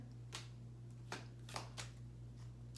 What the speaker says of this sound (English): It's so weird to shuffle the cards and have such a similar message pop up.